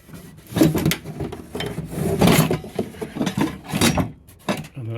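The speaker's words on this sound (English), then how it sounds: "there's a bolt comes through a hole here, and then it slides in and out." A wooden battery box slides in and out of its housing on a bolt, giving repeated close scraping and rubbing strokes in an uneven rhythm with a few knocks.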